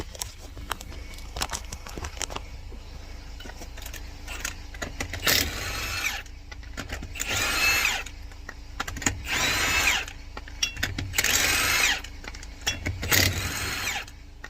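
Power tool with a plastic-coated socket removes lug nuts from the wheel of a 2021 Chevrolet Blazer, sounding in repeated loud whirring bursts separated by short pauses, close up.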